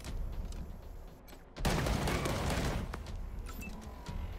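A weapon fires in the game Wasteland 3, with a sudden loud blast breaking into a sustained roaring barrage over steady background noise.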